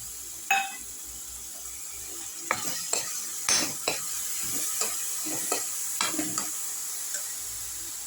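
Curd being stirred into a sizzling tomato masala for mutton biryani: a steady close hiss of frying oil broken by intermittent scraping ladle strokes in an uneven rhythm, with no talking.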